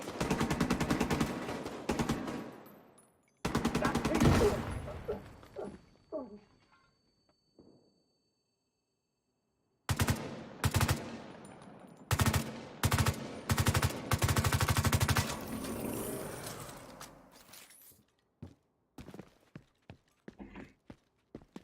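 Gunfire in The Division 2 comes in loud close bursts of rapid automatic shots, separated by pauses and a quiet stretch, with scattered single shots trailing off at the end.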